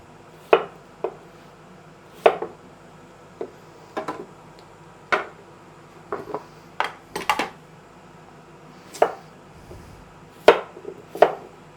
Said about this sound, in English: So I'll just give them a quick peel and just a quick chop.